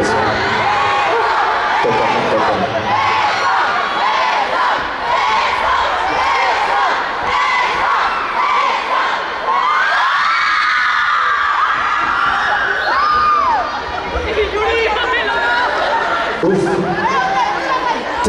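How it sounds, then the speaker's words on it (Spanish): At an anime festival, a lively crowd cheers, shouts and claps for performers on stage, a loud continuous roar of voices with whoops and children's shouts, rising and falling in waves throughout. "Un aplauso para mis compañeros."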